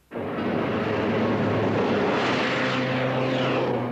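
An airplane engine roars up suddenly and holds a loud, steady drone with a rising hum, close by and without voices.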